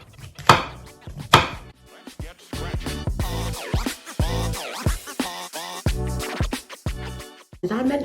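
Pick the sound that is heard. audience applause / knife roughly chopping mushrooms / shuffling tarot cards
knife roughly chopping mushrooms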